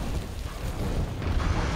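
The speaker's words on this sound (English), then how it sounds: "Mid air explosion." A mid-air explosion in the video game Monster Hunter World, heard as a sustained, loud, dense rumbling blast with no let-up across the moment and no voices over it.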